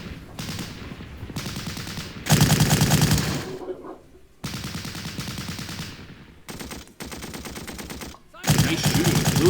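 A Lewis gun in the WW1 strategy game Battle Academy fires several loud, close bursts of rapid machine-gun fire separated by brief pauses, with no talking.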